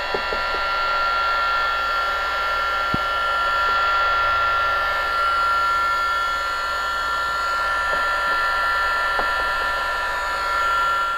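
Heat gun blowing hot air on black vinyl wrap edges on a silver Acura NSX nose, a loud steady whirring hiss with a constant tonal whine, sustained throughout with occasional faint taps and clicks.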